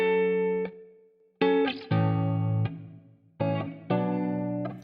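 Short tonal musical phrases pass through the HitVerb convolution reverb plugin set to the Hit Factory's Studio 1 room, each note ringing out into a smooth decaying tail, with no voices.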